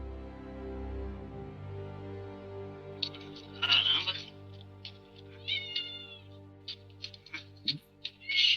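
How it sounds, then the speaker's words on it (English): A cat meows a few times in the video game Kingdoms of Amalur: Reckoning, short clear mews in the middle and later part over a quiet, steady ambient game soundtrack. "I hear a kitty meowing."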